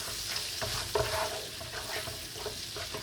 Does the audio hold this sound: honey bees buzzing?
no